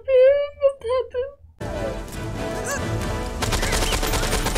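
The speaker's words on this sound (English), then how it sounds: "Man is shooting while dropping!" Gunfire and action-movie soundtrack from the 1994 film True Lies, a dense loud burst of shots and effects that follows a few seconds of excited talking before it.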